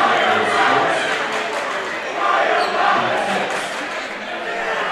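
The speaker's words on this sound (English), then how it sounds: "The crowd is into it." A crowd cheers and roars at a high school boys basketball game after a foul call in a tied contest, a loud, sustained wash of voices filling the gym.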